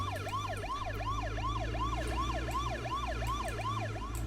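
Police car siren in the H1Z1 video game, a rapid rising and falling wail repeating evenly over a low engine-like drone, steady and moderately loud with no voices.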